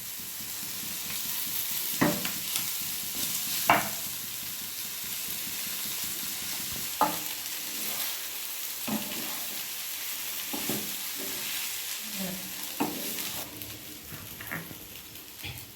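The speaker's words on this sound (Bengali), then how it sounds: "চিড়ের সঙ্গে সবজির সঙ্গে চিড়ে আমি মিশিয়ে নিয়েছি।" Flattened rice being stirred into fried vegetables in a pan, giving a steady soft sizzle with scraping stirs and a few sharper clanks of the spatula against the pan, close and continuous.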